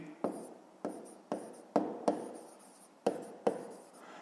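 Pen on paper writing out a fifth-grade maths exercise, seven faint, distinct scratchy strokes at an uneven rhythm, close and quiet with no talk.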